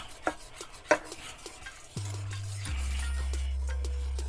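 Evaporated milk, Carnation brand, is stirred into a mixture in a bowl, giving a few light clinks and scrapes of utensil against the bowl, followed by a steady low hum in the background.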